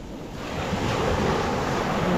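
Sea waves break on the shore in a steady, rushing roar that swells slightly, mixed with wind noise on the microphone and no voices.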